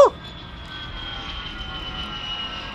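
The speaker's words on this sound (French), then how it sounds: "Starscream. J'ai reconnu sa transformation avion." Animated Starscream transforming into a plane: a sharp mechanical click, then a sustained aircraft engine drone with a steady whining hum, moderately loud and continuous.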